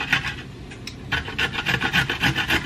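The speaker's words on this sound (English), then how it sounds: "I'm just going to quickly grate some carrot just to pop in there." Carrot rasped against a hand grater in a home kitchen, a quick series of rhythmic scraping strokes, close and fairly quiet, with no talking.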